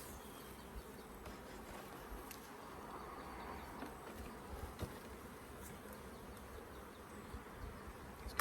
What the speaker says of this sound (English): Lovely bees, hardly running around at all.